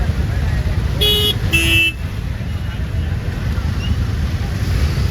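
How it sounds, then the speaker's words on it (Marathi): Heavy road traffic heard from inside a moving car, a steady low rumble of engines and road noise with two short horn toots near the start, loud and close. "ड्रायव्हिंगच्या माध्यमातून निश्चितच आम्ही आमच्या आईनुसार चाललो की फुल ट्रॅफिक आहे पाहू शकताय बघा"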